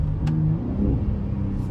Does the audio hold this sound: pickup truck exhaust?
yes